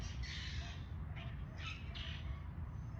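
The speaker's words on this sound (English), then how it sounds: "And there goes a murder of crows." A flock of crows flying past outdoors gives a series of harsh, raspy caws, several calls in irregular bursts at moderate distance over low background rumble.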